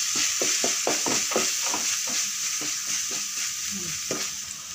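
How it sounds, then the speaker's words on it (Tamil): Onions with ginger-garlic paste and masala sautéing in oil, a steady bright sizzle under a quick run of rhythmic spatula scrapes and taps against the pan, close and loud, with no talking. "வெங்காயம் நல்லா வதங்கி வரணும் இப்போ அரைச்சி வச்ச இஞ்சி பூண்டு விழுது சேர்த்துடலாம்"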